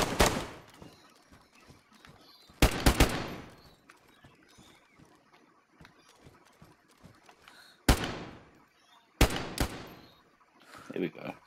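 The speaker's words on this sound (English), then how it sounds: "I think I sighted him with a couple VSD shots as he went to run back out" VSD sniper rifle shots in DayZ ring out as a few loud, sharp cracks spaced seconds apart, with quieter footsteps and rustling between them and voices talking in the background.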